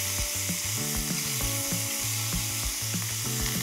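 Duck searing in a hot pan, a steady bright sizzle with a rhythmic low tapping or scraping underneath, close and fairly loud.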